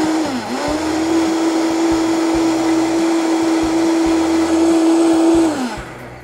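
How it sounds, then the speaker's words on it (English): A blender whirs steadily at high speed through a creamy cheeseburger ice cream mix with grated cheese, running loud and close for about five seconds, starting with a brief dip and then spinning down at the end. "Now you're just going to blend it just for a little while"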